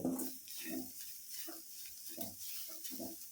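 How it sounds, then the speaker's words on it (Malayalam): A little water hits hot spice masala with tomatoes in a pan, setting off a low sizzle that swells and fades in regular bursts as the mixture is stirred about every half second. "അപ്പോൾ ഞാനൊരു നുള്ള് വെള്ളം ഒഴിച്ചൊന്ന് ഇതാക്കുന്നുണ്ട്"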